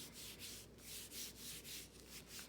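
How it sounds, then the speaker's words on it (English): Paper being rubbed by hand over a Gelli plate monoprint, a soft papery scrubbing that repeats in steady strokes, close and fairly quiet with no talking. "you rub and add some pressure"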